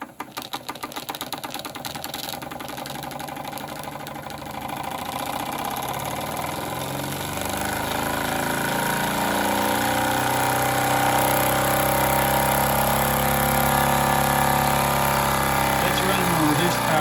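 A Wilesco D20EL live steam engine with 110 V electric heating and a built-in variac runs on reduced power, giving a steady mechanical chuffing whose hiss grows louder and fuller over the clip, close and continuous.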